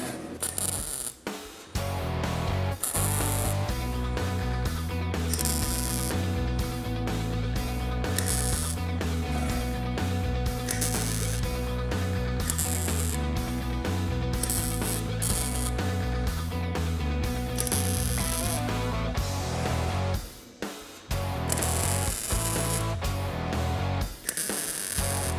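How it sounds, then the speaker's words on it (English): A MIG welder on an automatic settings mode lays a bead with a steady, close, buzzing crackle. The arc runs almost without a break for about twenty seconds, with short pauses near the start and again toward the end, and no voices. "That's welding really nice, and the settings are actually adjusting both for me"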